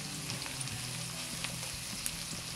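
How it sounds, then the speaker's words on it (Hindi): Onions browning in hot oil while cooking white biryani give off a steady, close sizzle that runs evenly throughout, with faint crackles and small pops rising above it. "अच्छा प्याज जो है वो हमारी ब्राउन हो रही है,"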